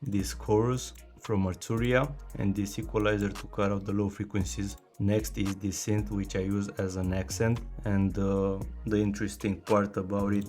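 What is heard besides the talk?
No everyday noises stand out.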